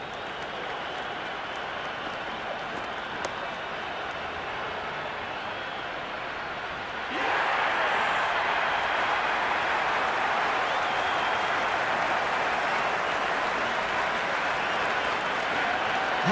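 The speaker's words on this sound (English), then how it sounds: "It's evident and ever so audible that the crowd is at near bursting point at today's play." Crowd at a Big Bash T20 cricket match between Hobart Hurricanes and Melbourne Stars, a low murmur that jumps about halfway through into loud, sustained cheering and applause after a six.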